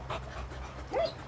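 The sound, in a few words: Newfoundland puppy panting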